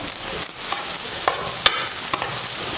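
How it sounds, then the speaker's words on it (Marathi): Grated carrot halwa sautés in ghee in a pan, giving a close, steady sizzle and fry hiss with a few sharp scraping stirs of a spoon punctuating it. "मी तूप घालते, चांगलंसं हे परतून घेऊया।"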